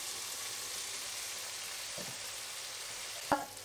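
Tomatoes and spices fry in a pan for chickpea and minced mutton keema curry, giving a steady, even sizzle throughout with a short sharp clink of a utensil near the end.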